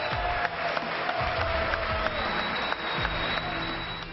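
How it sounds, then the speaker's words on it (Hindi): Applause fills the US Congress chamber as members stand from their seats, a dense roar of clapping with a few sharper thumps, loud and continuous. "पूरा सदन तालियों की गड़गड़ाहट से गूंज उठा"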